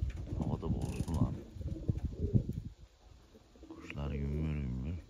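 Pigeons being fed coo softly near the end, after a stretch of people talking and mechanical clatter in the background.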